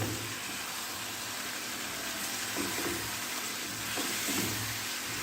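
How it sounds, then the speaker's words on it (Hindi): Boiled mutton, about one and a half to two kilos, is stirred into masala in a handi, with steady close sizzling and a few soft scraping stirs, no voices. "इसको अच्छे से मिक्स करते हैं इसमें।"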